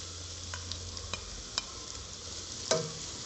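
Green chilies frying in a pan for a cauliflower and meat curry, a faint steady sizzle with a few sharp clicks of a spoon stirring against the pan, quiet and close with no talk.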